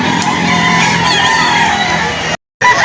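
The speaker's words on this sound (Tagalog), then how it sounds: "ganito karami ang mga manok ngayong araw" Dense overlapping clucking and crowing from many chickens fills a busy poultry market in Lipa City, Batangas, loud and constant, with a brief dropout near the end.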